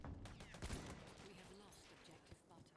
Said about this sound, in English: Did you hear the gunfire? Because I sure did, and it's coming through my OBS.